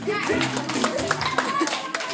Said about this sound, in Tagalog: Hoy, palakpak naman dyan.